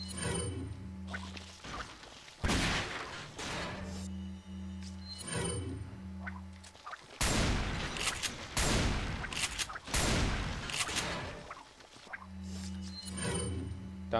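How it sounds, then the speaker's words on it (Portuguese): Several loud, sharp rifle shots ring out in the Resident Evil 4 video game, spaced a few seconds apart. Each blast trails off into a noisy echo, and a low, droning ambient hum runs between them. "Dá um tiro de rifle."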